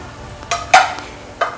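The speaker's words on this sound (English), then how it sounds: "Start frying the onions and then pork." Onions frying in a pan for a Filipino-style pork dish, with a few sharp utensil scrapes and clanks over a faint, steady background hiss.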